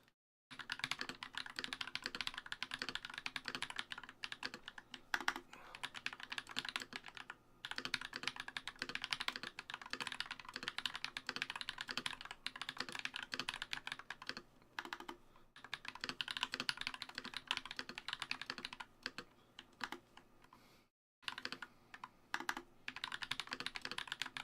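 Rapid, steady typing on an NK65 keyboard with lubed Glorious Panda switches and GMK Civilization keycaps, crisp close keystrokes in long runs broken by short pauses, with no speech.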